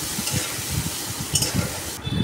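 Cut potatoes with salt and turmeric frying in hot oil, a steady close sizzle with soft stirring scrapes throughout and no talk.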